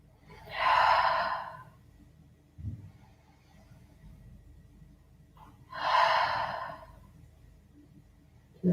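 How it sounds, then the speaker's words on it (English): Two long, breathy exhales through the mouth during a yoga breathing exercise, each about a second, separated by quiet inhales through the nose, close and clear. "Inhale through nose and exhale through your mouth."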